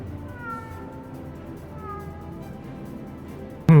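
A cat meows in the Final Fantasy XIV video game, a few drawn-out wavering mews over a quiet background hum, ending with a sudden louder burst.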